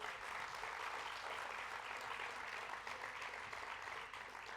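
Sustained applause from a large crowd at an outdoor political rally, dense steady clapping that continues throughout and begins to ease slightly at the end.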